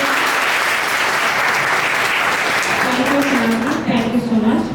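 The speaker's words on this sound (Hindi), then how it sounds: "एक बार फिर से तालियों की गड़गड़ाहट के साथ" Audience clapping at a talk by a UPSC 2023 rank holder, a loud sustained burst of applause that fills the room before a voice begins speaking near the end.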